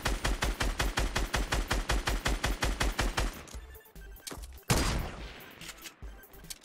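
Rapid automatic gunfire in Fortnite Battle Royale, a steady stream of loud, evenly spaced shots for about three seconds, then scattered single shots and a sharp blast, with no talking.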